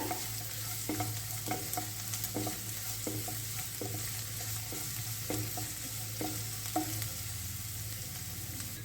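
Beans fry in a pan for instant vermicelli idli under a constant close sizzle, with a low hum beneath and a spoon scraping the pan in regular strokes throughout, no voices.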